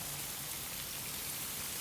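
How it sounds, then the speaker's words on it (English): Steady simulated rainfall hisses evenly and continuously, a dense wash of drops with no other sounds. "there is rain simulated in the upstream and downstream"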